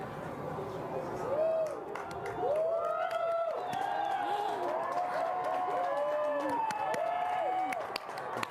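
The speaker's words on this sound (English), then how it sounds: "Everyone is cheering." A crowd gathered to watch an annular solar eclipse cheers and whoops, many voices rising in overlapping excited shouts with scattered clapping, steady and moderately loud throughout.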